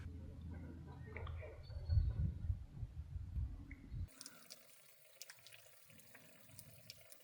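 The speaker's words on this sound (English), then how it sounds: "Groundwater slowly forces its way to the surface, seeping through tiny cracks in the stone." Groundwater seeps and trickles through cracks in limestone rock along a shoreline escarpment, a soft, uneven watery gurgle, low and close at first, then thinning to faint drips and hiss.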